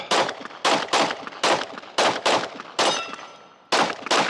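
Glock pistol with a performance trigger fired at an outdoor shooting range during a target transition drill: about nine sharp, loud shots in quick irregular pairs and singles, each with a short ringing decay, no talking.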